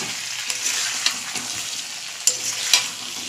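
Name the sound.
stirring chicken kosha frying in a pan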